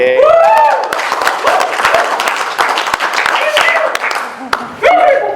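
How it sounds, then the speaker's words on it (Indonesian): A studio audience at a children's theatre talk show breaks into applause, with dense clapping running under the hosts' voices as they keep talking over it. "tepuk tangan."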